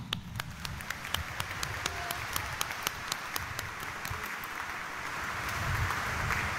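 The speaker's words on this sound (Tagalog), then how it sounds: "iparinig natin sa Kanya ang ating malakas na palakpak" A church congregation gives loud, sustained applause during a late-night Mass for the Solemnity of the Black Nazarene, steady clapping from a large crowd that swells slightly toward the end, with no talking.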